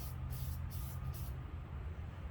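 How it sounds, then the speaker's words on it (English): A spray can hisses in short bursts onto a Ford tractor ram part, several quick sprays followed by a longer pause, under a steady low rumble of room noise. "Spray a little more, not the sponsor"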